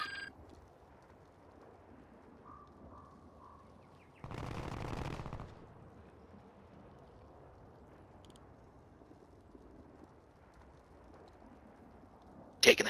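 Video game gunfire: one dense burst of automatic shots around the middle, loud against a low background murmur, with a sharp crack right at the end.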